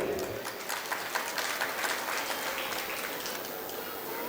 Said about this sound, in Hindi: सिर्फ ताली बजाने से काम नहीं होगा।